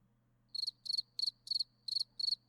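A cricket sound effect chirps during a tabletop D&D game set in woods, seven short high trills pulsing at a steady rhythm over a faint low hum, with no talk.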